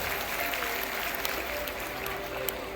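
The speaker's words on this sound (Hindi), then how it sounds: "एक बार पूरे बजरंग दल के लिए जोरदार तालियों से अभिवादन करें" Applause from a crowd at a Hindu Bhagavat Katha religious discourse in Paonta Sahib, a soft, fairly distant, even patter of clapping that holds steady throughout.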